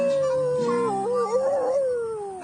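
A long, wavering canine howl rises and bends in pitch, loud and close, with faint yips underneath.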